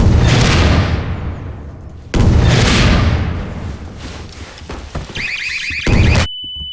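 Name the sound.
RPG rocket explosion in Garry's Mod video game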